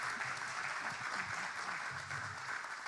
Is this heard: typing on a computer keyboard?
no